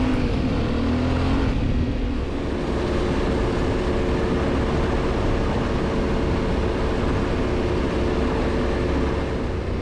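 An adventure motorcycle rolls off tarmac onto a sandy forest road, its engine a steady moderate drone with a brief change in tone early on, heard from the rider's position.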